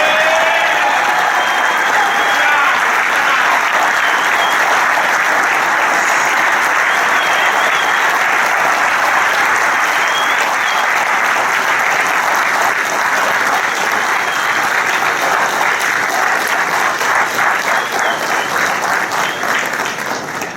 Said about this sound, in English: please help me in giving a round of applause